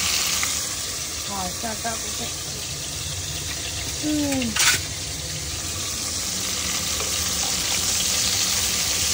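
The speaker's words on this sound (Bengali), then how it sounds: "এদিকেও তেল গরম হয়ে গেছে, সয়াবিনটা আর ফুলকপিটা দিয়ে দিই।" Soybean chunks and cauliflower drop into hot oil in a home kitchen, setting off a steady, loud sizzle that runs throughout, with a brief spoken word and a few clatters partway.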